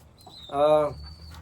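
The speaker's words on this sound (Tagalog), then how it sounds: "papakita ko na rin nga pala sa inyo yung 3 ng ibon na nandito sa atin" Pet birds in a cage give a single soft, close coo with a low hum behind it and no talking.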